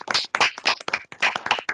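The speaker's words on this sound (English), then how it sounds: "give a round of applause to her" Scattered hand claps from a small group at an online annual celebration, giving a round of applause for an absent award winner, a few uneven bursts of claps with short gaps, close and distinct.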